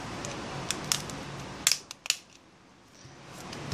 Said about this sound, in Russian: Снимаем панель.